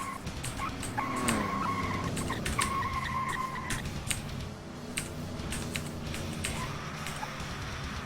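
Tyres skid and an engine revs as a Ferrari is driven through the streets of Los Angeles in the game True Crime: Streets of LA, with several screeching slides over a steady engine drone and scattered clicks.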